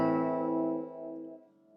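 A single chord strummed on a ukulele using the yellow chord shape, ringing out alone and decaying gradually over nearly two seconds with a slight dip near the end.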